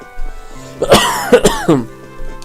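A person clears their throat a few times in quick, rough bursts, close and fairly loud, with no talking.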